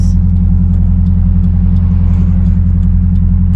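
Heavy city traffic on a five-lane-each-way road in Buenos Aires: a close, steady, loud engine drone and rumble that holds without a break.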